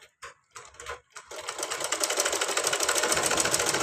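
Domestic sewing machine stitching back and forth to lock a seam, a few short starts and stops followed by a steady, fast mechanical whirring run, close and loud with no talk.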